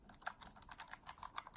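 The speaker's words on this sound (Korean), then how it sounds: "이제 장점으로 보자면은 그래도 기계식 키보드라는 거" Rapid, crisp clicky keystrokes on a thin portable Anidees mechanical keyboard with blue switches, heard close and alone in a quiet room, with a busy, uneven typing rhythm.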